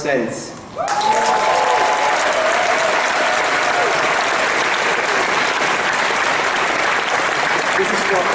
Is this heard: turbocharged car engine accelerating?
no